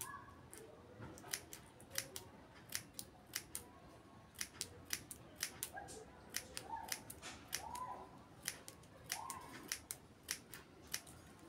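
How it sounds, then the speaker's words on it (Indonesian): Scissors snipping spaghetti packaging into small strips for a craft flower, a steady run of crisp, close, quiet cuts at an irregular rhythm. "Kita gunting-gunting kecil-kecil."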